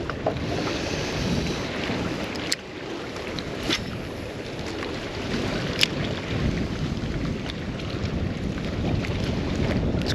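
Strong wind gusts roar steadily over a fishing boat at sea, with broadband buffeting and a few sharp microphone knocks, no talk.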